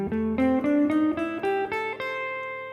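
Guitar running up the A blues scale, single notes picked one after another in a steady ascending line, clean and ringing, with the last note left to sustain.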